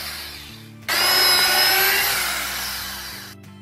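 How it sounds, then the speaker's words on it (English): A power drill bores drainage holes in the bottom of a barrel, a single close whirring burst of about two and a half seconds that starts abruptly and slowly fades before cutting off. "drill some drainage holes in the bottom of the barrel"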